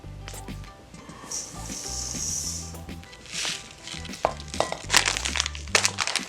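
Flaxseed poured into a neck warmer filling mixture and stirred, a dry granular rustling and crinkling that swells in bursts, with a few sharper clicks toward the end.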